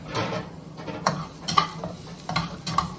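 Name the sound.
shallots sizzling as they are stirred in pan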